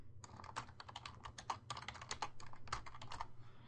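Rapid typing on a computer keyboard, a steady stream of close, light key clicks for several seconds over a faint low hum, with no talk.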